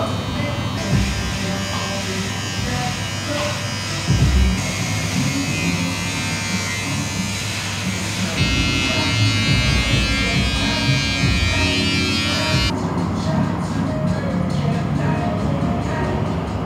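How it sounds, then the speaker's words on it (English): An electric clipper or shaver buzzes continuously at a barber shop in Chiang Mai, Thailand, close and steady throughout, with people talking over it. "Bit of a fresh shave, bit of a freshen up."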